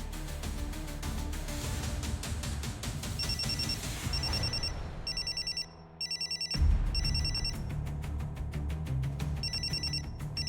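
A telephone rings repeatedly in a steady electronic trill over background music, with a brief pause midway before the ringing resumes.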